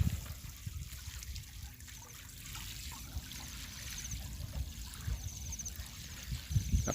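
Water runs steadily into a crab pond, a continuous close trickle and gurgle with faint splashes throughout, no voices over it.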